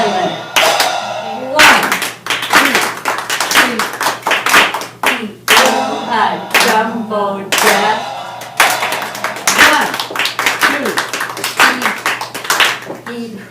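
A group plays a clapping game, with hand claps landing in a steady rhythm. Voices chant a counted rhyme over and between the claps.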